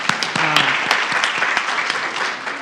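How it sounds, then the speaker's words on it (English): A church congregation claps steadily and loudly throughout, a dense continuous applause with a few voices and cheers mixed in. "Yeah, give her a hand."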